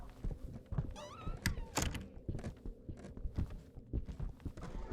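A door is shut in the horror game Demonologist, heard as dull thunks amid scattered footstep-like knocks and shuffles, moderately close and fairly quiet.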